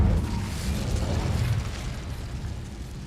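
An Incendio fire spell cast in Hogwarts Legacy: a loud whooshing burst of flame that swells at once, then rumbles and fades over a few seconds, with no talking.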